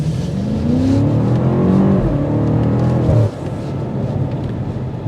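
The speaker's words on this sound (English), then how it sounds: "We're going to put the active exhaust now back on" A 2023 BMW M8 Competition Gran Coupe with active exhaust revs hard and climbs in pitch as it accelerates, exhaust roaring loudly before the tone abruptly drops and settles into a lower drone.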